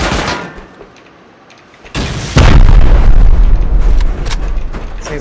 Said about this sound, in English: I'm gonna send a normal rocket on the turret. And then we'll finish with explosive ammo.